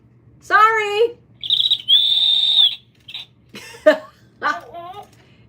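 A captive owl gives a series of short, harsh calls and whistling squawks, a few bursts spaced across several seconds, close and fairly loud over quiet background.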